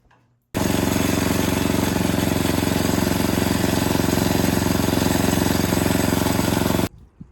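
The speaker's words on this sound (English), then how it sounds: "As you just saw, guys, snowblower worked good." A repaired MTD Craftsman Cub Cadet snowblower engine starts abruptly and runs at a steady, loud, continuous drone with a rough mechanical chatter, then cuts off near the end.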